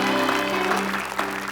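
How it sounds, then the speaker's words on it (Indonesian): A studio audience on a television show claps in a dense, continuous burst of applause close by, with voices faintly mixed in beneath it. "Terima kasih, tepuk tangannya mana? Tepuk tangan."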